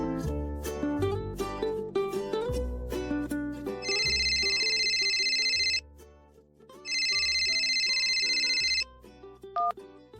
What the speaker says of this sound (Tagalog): nagulat na lamang ako nang may tumatawag na unknown number sa aking cellphone